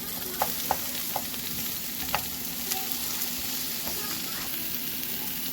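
Okra and onion with peppers and mushrooms sizzle steadily in a hot pan, a close, continuous crackling fry broken by a few sharp pops and light stirring clicks.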